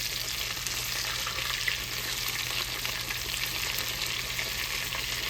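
Breaded shrimp fry in hot oil in small batches, giving a steady, close, even sizzle that continues without pause and with no voices.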